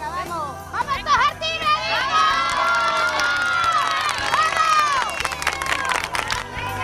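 Women rehearse a team war cry at the Seville marathon, a loud, close burst of high shouting and cheering voices that swells and holds for several seconds.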